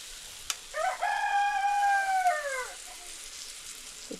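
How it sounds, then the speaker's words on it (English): A single rooster crowing once in the morning, a clear, fairly close call lasting about two seconds over a quiet background. "The chickens say good morning."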